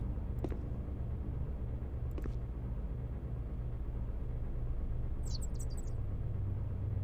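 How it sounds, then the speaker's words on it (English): Ambient birdsong in the Barrow Hill adventure game, a few brief high chirps scattered over a constant low outdoor rumble, with a quick trill of calls near the end. "Why am I hearing birds?"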